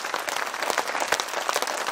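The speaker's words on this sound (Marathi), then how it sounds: "सगळ्यांच्या जोरात टाळ्या" Loud applause from the audience at a youth camp magic show, steady dense clapping that rolls on without pause and stands alone with no speech.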